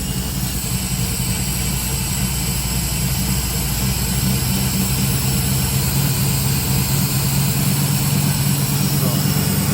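A 1972 Chevrolet Camaro engine, just fitted with an MSD ignition and idling slightly differently, runs throughout with a low, continuous rumble, and voices talk over it.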